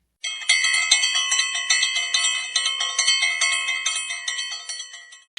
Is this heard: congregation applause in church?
no